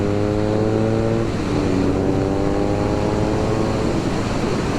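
A 2022 BMW R nineT motorcycle rides through a corner, its engine droning loud and close with a tone that rises and shifts as it leans through the bend, over steady wind rush.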